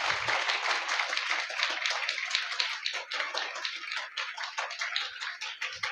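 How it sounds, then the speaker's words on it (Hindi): A church congregation at a Hindi praise and prayer service claps loudly and steadily, dense rapid handclaps filling the whole stretch with no speech over them. "से ताली बजाएंगे"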